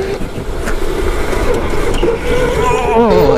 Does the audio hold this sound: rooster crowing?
no